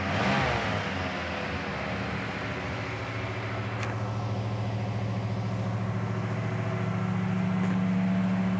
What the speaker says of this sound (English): It's still on the fast idle right now as Brady just fired it up